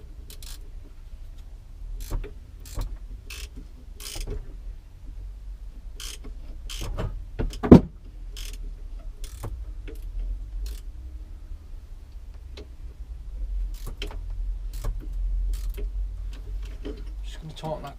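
Small ratcheting clicks and metallic ticks come from a clamp being tightened on a bar end mirror of a Kawasaki ZZR motorcycle, irregular and close, with a low steady background hum.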